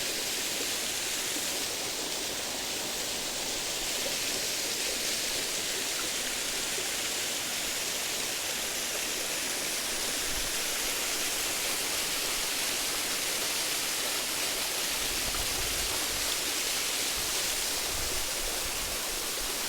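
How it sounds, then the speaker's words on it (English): Standing directly underneath a large waterfall at Black Hill, a continuous, dense roar of falling water fills the air, steady and loud, with a broad hissing wash and no other sounds standing out. "So here I am, directly underneath the waterfall."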